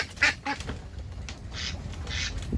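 Two ducks, recovered after a month of illness, quack in several short, loud bursts close by, with brief pauses and a soft background hum between calls.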